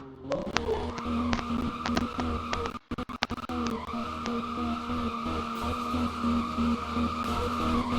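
A car in the Roblox game Driving Empire squeals its tires in long skids while the engine drones, with a brief break partway through and sharp exhaust pops cracking over it. Loud and close throughout.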